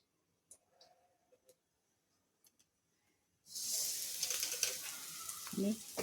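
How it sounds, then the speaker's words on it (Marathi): Ajwain (carom seeds) roasting in ghee in a kadai over medium heat, a few faint clicks and taps, then a sudden steady sizzle close by that keeps going to the end. "मध्यम आसेवर भाजून घ्यायचे आहे"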